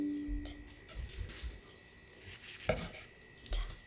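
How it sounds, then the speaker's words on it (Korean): A knife slices a diet kimbap rolled in thin egg sheet on a cutting board, giving a few soft, sparse cuts and taps, fairly quiet, with a louder knock near the end. "자, 썰어 보겠습니다."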